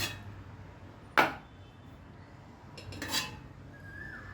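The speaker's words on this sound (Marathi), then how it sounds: "एक एक भांडं बाहेर काढून घ्यायचं असं." Metal idli steamer vessels lifted out of a cooker one at a time, giving two sharp clanks of metal on metal about two seconds apart, the second a cluster of rattling knocks, with no talk.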